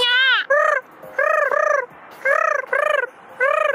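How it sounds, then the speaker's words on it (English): Geese call nearby in loud, repeated nasal honks, arriving in short bursts of two or three with brief gaps between them. "Check out the goose."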